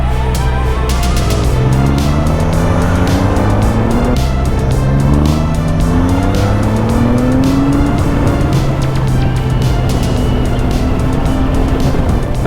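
Powerful motorcycle accelerating hard into a wheelie, heard from close behind as a loud, continuous engine roar with rising and falling pitch sweeps as it shifts through gears.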